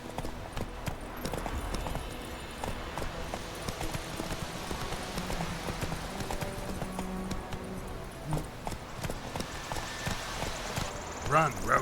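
Roach, the horse in The Witcher 3, galloping with rhythmic clip-clop hoofbeats under in-game dialogue and background score, steady and fairly close throughout.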